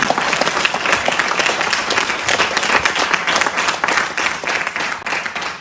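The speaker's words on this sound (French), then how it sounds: "vous pouvez le applaudir. Allez, lâchez-vous." Dense, sustained applause from an audience at a Georges Brassens centenary recital in a bookshop, steady and full throughout with no voices over it.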